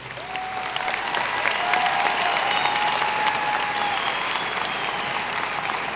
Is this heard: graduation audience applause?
yes